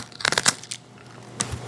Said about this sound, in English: so this is super crunchy